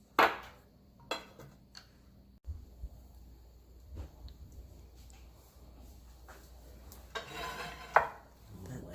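Lamb shanks and braised vegetables being lifted from a pressure air fryer onto a platter, with scattered clinks and knocks of utensils against cookware and dishes, a few louder scrapes near the start and end, quiet kitchen between.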